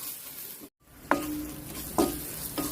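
Slit green chillies sizzle in a hot pan for a tomato roast, with a steady close fry hiss and a few distinct scrapes of a stirring spoon.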